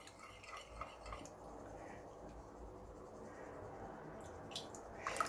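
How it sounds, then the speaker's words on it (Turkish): A spoon stirs food round a pot in a home kitchen, a soft continuous scraping with faint clinks, steady and close, with a sharper knock near the end. "O yüzden de bunu böyle epeyce bir süre bu şekilde karıştırmaya devam edeceğim."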